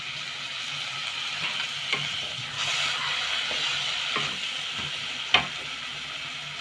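Ground spice masala for chole sizzling in a hot pan after a splash of the water used to rinse the grinding stone is added; steady broad frying hiss with occasional stirring clicks and a sharp clink near the end, no talk.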